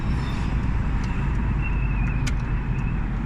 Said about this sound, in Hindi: गाड़ियाँ वगैरह थोड़ी बहुत चल रही है,